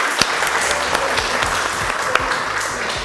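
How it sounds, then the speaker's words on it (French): Steady applause from a crowd, dense clapping throughout with a few sharper claps standing out. "Applaudissez, c'est Séoul"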